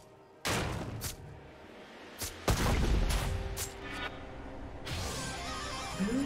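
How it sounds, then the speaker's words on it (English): A turret is destroyed in League of Legends during a top-lane Gwen versus Tahm Kench match. Several heavy booms and crashing explosions hit in quick succession, loud and close, over dense in-game battle noise. "team's turret has been destroyed."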